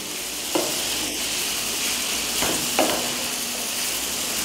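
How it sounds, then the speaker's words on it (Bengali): Vegetables frying in a pan for a picnic dish, stirred with a few distinct scrapes against a steady close sizzle, no voices. "ভালোভাবে আমি এটাকে নাড়াচাড়া করব"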